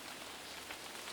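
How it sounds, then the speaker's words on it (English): Rain falling outdoors in a backyard: a soft, steady hiss of drops pattering on surfaces, faint and continuous with no voices. "Is that rain?"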